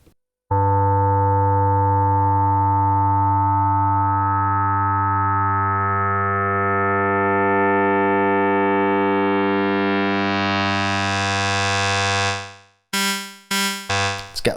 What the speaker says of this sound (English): Get those sort of FM ringing bell type tones.